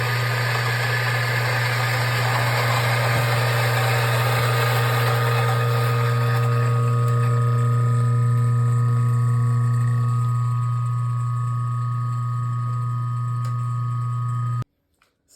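Bentwood coffee grinder with a pre-crusher running with beans loaded, a loud steady motor whine and hum that holds for about fourteen seconds, its grinding texture thinning toward the end before cutting off abruptly.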